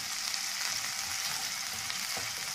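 Onion frying in oil in a hot kadai: a dense, steady sizzle, close and even throughout, with a faint stir near the end.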